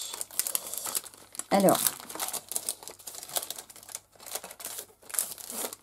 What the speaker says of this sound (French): Un petit bout de papier, évidemment.